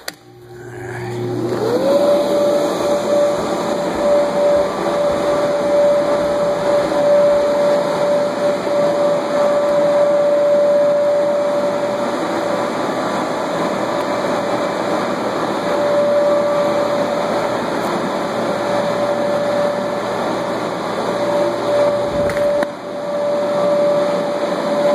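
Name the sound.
blower inflating a sand-weighted Mario mushroom inflatable bounce house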